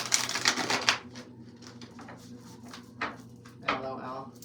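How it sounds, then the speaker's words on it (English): A deck of cards is riffle-shuffled, giving a fast fluttering burst at the start and a couple of shorter riffles later, with quiet handling noise in between. "Shuffles so cleanly and nicely when I'm not recording"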